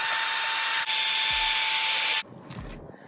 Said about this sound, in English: So I'll just sand these.